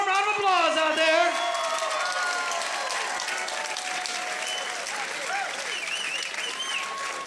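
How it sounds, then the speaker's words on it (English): Boxing crowd applauding at a fight night in Toledo, Ohio, a loud sustained clatter of clapping with cheers and whistles, opening with a brief burst of shouting voices, then steady ovation throughout. "Make some noise, a big warm round of applause out there."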